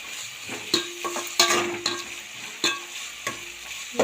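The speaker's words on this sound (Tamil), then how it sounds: "வெங்காயம் பெரிய வெங்காயம் எல்லாம் போட்டு வதக்கிக்கணும்" Onions sautéing in a pan give a continuous soft sizzle, broken by sharp scraping knocks of a spoon stirring against the pan about six times at an irregular pace, close up with no talking.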